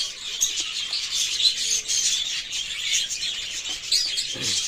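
A small bird chirps and tweets repeatedly at close range, bright high calls tumbling over one another with no talking.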